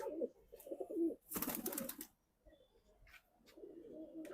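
A pigeon coos softly in a loft in low, rolling phrases separated by pauses, with a sharper burst of flapping or scuffling partway through and other birds faintly calling nearby.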